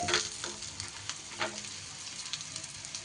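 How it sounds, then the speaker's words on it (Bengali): Ingredients for a rohu fish thecha stirred and lightly fried in a pan, a soft steady sizzle with faint scraping stir strokes, close by and fairly quiet, no talk. "কয়েক সেকেন্ড এইভাবে নেড়ে নিলেই সুন্দর মতো করে এটা ভাজা হয়ে যাবে"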